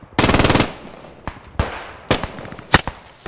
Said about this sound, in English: This machine gun has ammo.